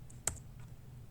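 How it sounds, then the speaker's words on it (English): One or two quiet clicks from a computer keyboard being typed on, close and brief over a low steady hum. "so I'm gonna type that again."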